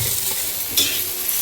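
Cumin seeds frying in hot oil give a loud, close, even sizzle with a brief spitting swell partway through, and no voices.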